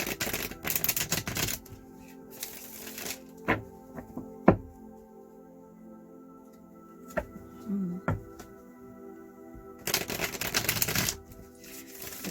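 Tarot and oracle cards slapped and shuffled onto a table in bursts, with sharp individual taps and card flicks between flurries of shuffling, close and fairly quiet.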